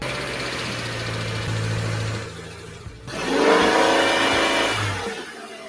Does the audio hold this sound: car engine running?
yes